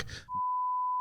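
A steady censor bleep tone bleeps out a word in podcast talk, cutting in after a moment of speech and holding loud and unbroken to the end.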